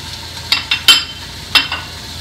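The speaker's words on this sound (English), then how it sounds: "Hear it sizzle when it hits the pan." Oily sizzle and crackle from a hot pan, with a few sharp bursts as mahi-mahi wedges are added to mushrooms and onions, and clinks of a utensil against the pan.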